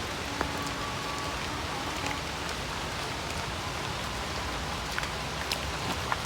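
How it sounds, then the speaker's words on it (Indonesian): Heavy rain pours on Mount Munara, a dense, steady hiss of drops close by with a few sharper splashes and no voices. "Hujannya gede banget ini."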